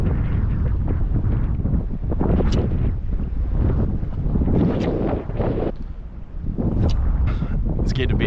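Wind buffets the microphone in a steady low rumble at a fishing spot by the Barwon River entrance, while a person talks close by throughout.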